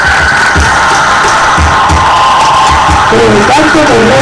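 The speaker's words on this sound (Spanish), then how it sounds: "¡Un aplauso!" An audience at a theatre rehearsal at a cultural institute cheers and whoops loudly, with crowd noise and shouting that holds steady throughout and a sustained tonal sound running over it.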